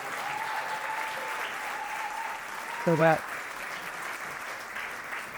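Audience applause fills a community-building talk and panel event, a steady wash of clapping throughout, with one speaker's voice briefly over it near the middle.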